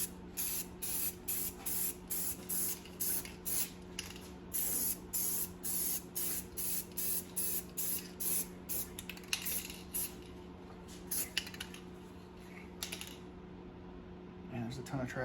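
An aerosol spray paint can lays a light coat onto a plastic car trim piece, hissing in rapid, evenly spaced short bursts close by, with a steady electrical hum running underneath.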